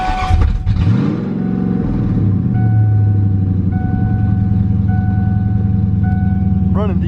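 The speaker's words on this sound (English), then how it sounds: "So I'm about to cold start it, and we're gonna hear what that sounds like" A Cobra car engine cold-starts with a cranking burst, catches, and settles into a loud, steady, rough idle with some beeping chimes over the rumble, close by.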